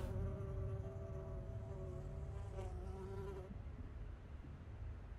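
A buzzing bee in The Secret World, a close, steady droning hum that wavers slightly in pitch and fades a little toward the end, with no speech.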